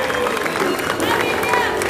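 Festival audience at Kirkstall Festival applauding a volunteer named Abigail, a dense burst of clapping and crowd murmur mixed with voices, fairly loud and close.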